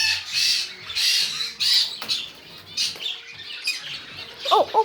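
A pet parrot gives repeated harsh, loud squawks close to the microphone, broken by short pauses, with a few softer chirps near the end.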